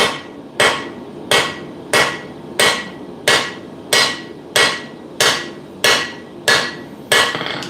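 Steady hammer blows ring out on a forge anvil as a tapered-tang dagger's bevels are forged, eleven loud, evenly spaced metallic strikes with short decaying rings and no talk.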